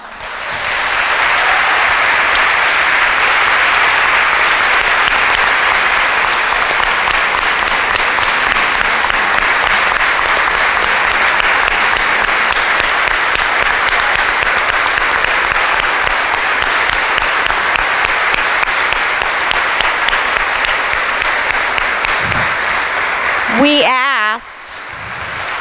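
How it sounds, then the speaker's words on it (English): A long, sustained ovation at a graduation ceremony honors a fallen lieutenant's widow, loud even clapping holding steady for over twenty seconds before fading into a brief spoken word at the end. "I would like to give her a round of applause."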